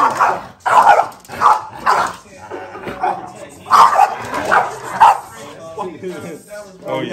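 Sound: French bulldog barking

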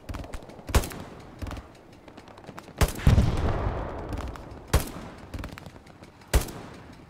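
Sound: tank firing in video game Hell Let Loose

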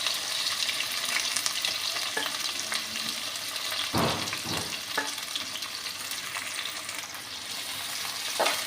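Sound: chopped onions and mustard seeds frying in a pan

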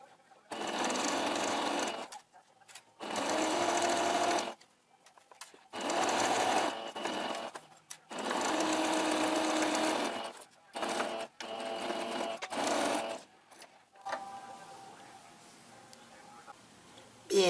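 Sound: sewing machine stitching a poncho collar

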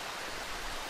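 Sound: rain in the video game Darkwood

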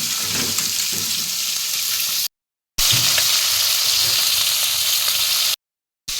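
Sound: vegetables frying in oil

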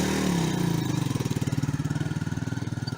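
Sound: Musstang Alpha motorcycle engine running

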